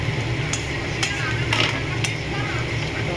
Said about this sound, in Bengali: তো রসুনটা এর সাথে ভালো করে ভেজে নেবো বন্ধুরা।